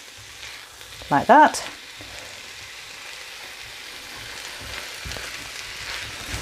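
Tawa chicken, Pakistani street-food style, sizzles steadily in a hot pan as it is stirred and mixed, with a brief spoken phrase near the start.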